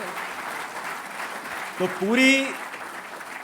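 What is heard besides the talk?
audience applause at education summit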